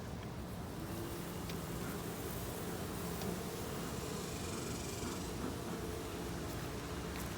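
Honeybees at a hive buzzing in a dense, faint, continuous hum while being smoked with a beekeeper's smoker before a honey harvest.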